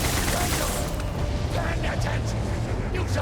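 Dense, rapid gunfire from the Starfield Shattered Space video game rattles on without pause, loud and close with overlapping shots throughout.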